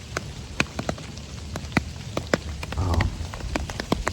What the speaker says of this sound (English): It's not pouring rain.